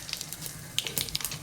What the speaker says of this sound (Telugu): పల్లీలు చూడండి ఇట్లయితే కొంచెం మంచిగా ఫ్రై చేసి పక్కనైతే తీసేసుకోవాలి